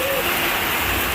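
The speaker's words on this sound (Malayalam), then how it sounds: "രാവിലെ തന്നെ നല്ല മഴയാ." Heavy morning rain pours down in a steady, loud wash of hissing water that stays constant and close, with nothing else standing out.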